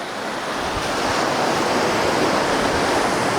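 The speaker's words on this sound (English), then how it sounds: "Here come the waves." Ocean surf breaks in a steady, loud, continuous wash at a seaside spot, with a little wind noise over the microphone and no voices.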